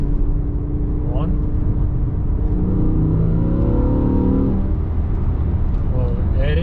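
A BMW E60 M5 with a new air intake hums in the cabin, then revs up with a rising whine that falls back, while someone talks over the engine.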